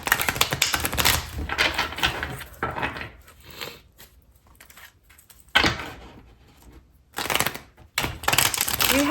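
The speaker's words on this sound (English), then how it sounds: "I'm just going to give these a shuffle." Tarot cards are shuffled in quick rustling bursts, with short pauses between each riffle, close and crisp.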